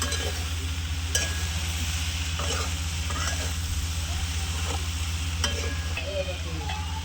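Okra is stirred in a pan over a village wood-fired stove, with a constant low sizzle and the periodic scrape and clink of a spoon mixing the bhindi close by.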